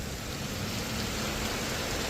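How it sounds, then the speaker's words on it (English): Heavy rain pours down on a campsite in a park during a rainstorm, a dense, steady, close hiss that stays constant throughout with no voices. "downfall rain like this"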